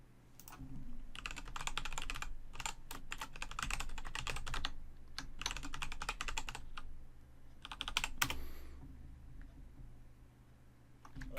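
A password is typed on a computer keyboard in quick bursts of close, crisp key clicks separated by short pauses, with a steady low hum beneath.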